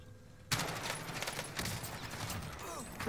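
Rapid automatic gunfire from an MP5 submachine gun in Call of Duty Warzone on Verdansk, starting abruptly after a quiet half-second and continuing as a rattling stream of shots with brief fluctuations.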